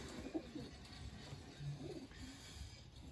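Soft, low pigeon coos rise and fall a few times over a quiet outdoor background, with no voices.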